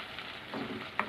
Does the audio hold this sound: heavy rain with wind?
no